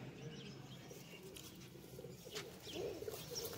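Female striped Kabli pigeon cooing amid other pigeons in a loft, soft low coos repeating under a steady murmur of birds, growing a little louder toward the end.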